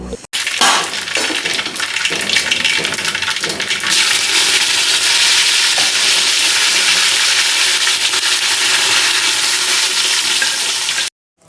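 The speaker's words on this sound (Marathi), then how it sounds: "ह्या तेलामध्ये दणदणीत अशी छान जिरी मोहरी कढीपत्त्याची फोडणी आपण तयार केलेली" Cumin, mustard seed and curry leaf tempering sizzles loudly in hot oil in a large pot, a dense crackling hiss with popping bursts that grows fuller partway through and runs steadily until it cuts off.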